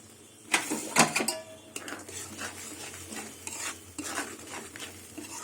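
Spices sautéing in a pan for a koi fish curry, with busy, repeated spatula scrapes and clinks over a low sizzle, loudest at the start and continuing close and steady.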